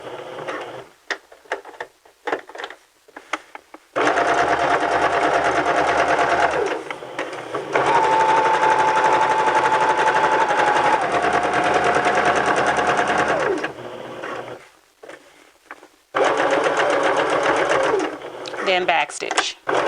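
A sewing machine stitches over a thick seam allowance in steady motorized runs, stopping and starting between bursts, close and loud. Between runs a person talks.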